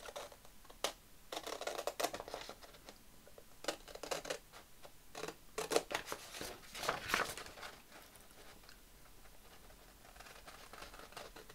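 Scissors cutting out a paper ephemera tag, giving soft, close, irregular snips and paper rustles in quiet sporadic clusters, fainter toward the end.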